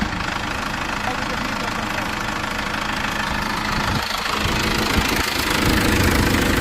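A tractor engine fitted with GPS automatic steering runs in a field, a loud, continuous rough knocking drone that stays steady and close throughout.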